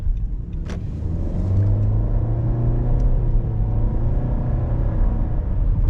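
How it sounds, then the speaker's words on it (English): A 2018 Nissan Rogue S crossover with a CVT drones steadily from inside the cabin, the engine note climbing as it revs and the transmission shifts, loud and continuous with no talking. "it revs and it shifts at the same time."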